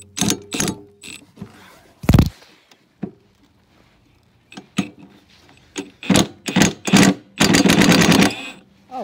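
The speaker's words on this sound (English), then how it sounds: "I normally use my 3/8 impact, but this is a half inch drive socket" A half-inch drive impact wrench hammers at a bolt on a Craftsman lawnmower with a Tecumseh engine, coming in several short sharp bursts with pauses between, the last burst longest, close and fairly loud.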